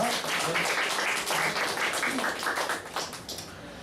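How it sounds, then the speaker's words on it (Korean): A church congregation claps in encouragement after a prayer, a fairly soft, steady patter of many hands lasting a few seconds with scattered individual claps near the end. "여러분 박수로 한번 격려하도록 하겠습니다."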